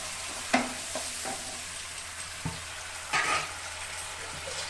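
Capsicum frying in a pan gives a soft, continuous sizzle, with several distinct clicks and scrapes from stirring and a brief burst of louder crackle.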